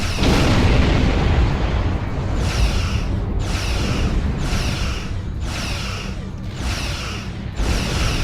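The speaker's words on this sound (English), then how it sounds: "Flores, give them a high yield torpedo" A high yield torpedo detonates in the Star Trek Online video game, a loud, dense roaring blast that rumbles on continuously, with repeated bright crackling bursts pulsing about every second over the low boom.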